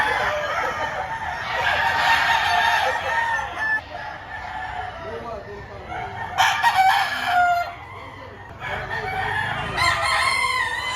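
Roosters crow loudly and close by, several calls in succession, with clucking chickens and faint talk in the background at a chicken market in Batangas.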